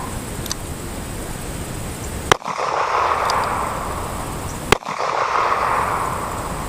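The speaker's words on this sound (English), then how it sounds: "here I'll be shooting a 110 grain jacketed hollow point projectile" Two sharp, loud gunshots about two seconds apart from a Smith & Wesson .38 Special firing 110 grain jacketed hollow point rounds at a polyurea target, outdoors over steady background noise.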